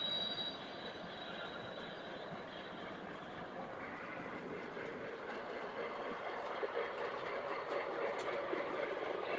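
A TMCC 280 model locomotive fitted with an Odyssey upgrade from an SD90 runs steadily along its track, a continuous mid-level rumble with a faint high whine near the start and some clatter later.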